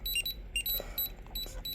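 Short electronic beeps repeat in an irregular pattern during Digimon Color training in a handheld virtual-pet video game, clear and close over a soft background hiss.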